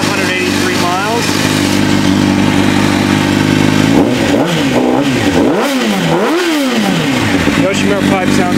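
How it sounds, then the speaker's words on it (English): A 2005 Honda CBR600RR with a Yoshimura exhaust idles close by with a steady, throaty hum, then blips the throttle in several quick rising-and-falling revs before settling back to idle. "Yoshimura pipe sounds really good on the bike."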